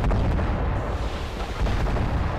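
PPC weapon fire and battle din in MechWarrior Living Legends: a continuous, heavy, booming rumble with dense low-end roar and scattered bursts, loud and close throughout.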